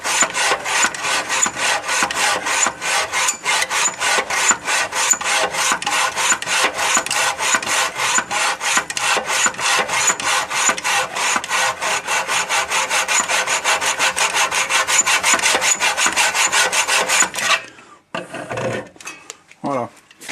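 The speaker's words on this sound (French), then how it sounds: "je vais faire juste une marque avec une scie à métaux" A hacksaw with a new blade cuts metal in fast, even back-and-forth strokes, close and steady for a long run, then stops abruptly followed by a few scraping handling sounds.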